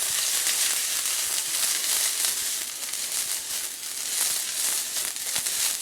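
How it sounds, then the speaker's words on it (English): Broccoli sizzling in a hot wok for a stir fry, a steady, dense hiss and crackle close by with faint stirring scrapes throughout. "We're going to start with our broccoli to get a nice little sizzle."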